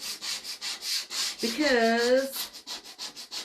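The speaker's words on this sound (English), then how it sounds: "this scraper gets off the chalk" Metal scraper rasping dried chalk paint off a painted sign, a steady run of short rhythmic scrapes close up, with a brief spoken word cutting through partway.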